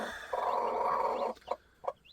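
Hens cluck and squawk close by in a village yard, one long loud cackle followed by two short sharp clucks, with no talking.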